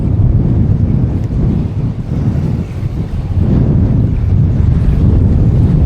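Strong wind buffets and roars across the microphone while fishing on the Swan River in Perth, gusting unevenly throughout with no talk.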